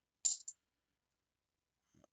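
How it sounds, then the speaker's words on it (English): Half dollar coin dropping onto a desk during a coin roll hunt, a bright metallic clatter with a quick second bounce, then a long silence before faint soft handling noises. "That coin rolled right off the desk, off my lap, and into the searched coins."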